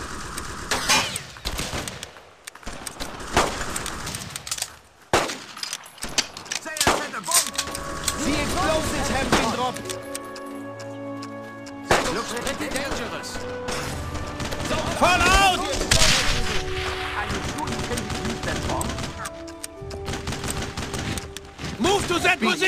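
Gunfire in the Brothers in Arms: Road to Hill 30 video game on Xbox keeps up as a dense battle din of rapid shots, crashes and blasts, while soldiers shout over it the whole time.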